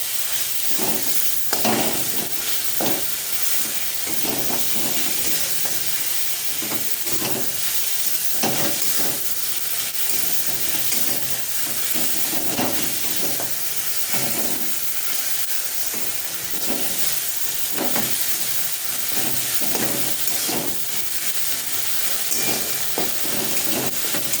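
Tomatoes softening in hot oil with turmeric, a continuous loud sizzle and hiss broken by repeated scraping stirs from a spoon in the pan.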